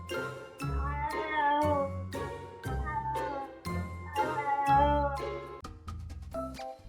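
A cat lets out a series of loud, drawn-out, tonal yowls and screams in rapid succession, close to the microphone, with short gaps between the cries and no talking.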